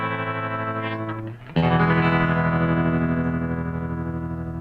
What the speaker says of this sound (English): So that's how to get some tremolo sounds out of it.